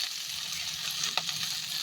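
Spices and coriander leaves dry-roasting in a pan for a mutton keema sambar masala give a soft, continuous sizzle, with a faint clink of stirring near the middle.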